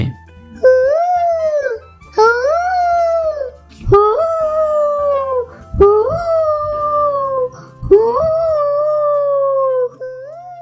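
A voice imitates a jackal howling in a puppet show, giving five long, rising-and-falling wailing howls, loud and close, with short pauses between them.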